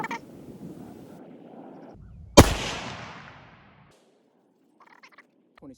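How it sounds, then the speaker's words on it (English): A single loud rifle shot firing a 25-grain-per-charge test load of Hammer 116 Shock bullets with CFE223 powder, a sharp crack with a long fading tail, preceded by low outdoor rumble and followed by faint ticks. "So I'm gonna take a shot with these two and see how it does"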